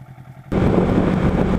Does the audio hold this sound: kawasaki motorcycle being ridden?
yes